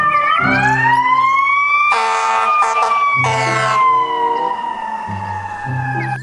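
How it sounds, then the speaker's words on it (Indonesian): A toy fire truck siren wails loudly and close, its rising and falling electronic tone broken by choppy pulsing bursts, with no talking over it. "Mobil pemadam kebakaran."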